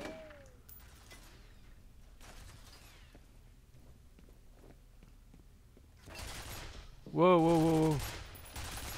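Gunfire rings out in the video game F.E.A.R., with bursts of shots and sharp impacts over game ambience, followed by a short exclamation from a voice.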